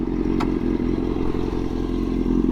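Motorcycle with a newly fitted aftermarket exhaust idling close by, a steady throbbing low rumble with rapid pulsing and a light clatter, no talk.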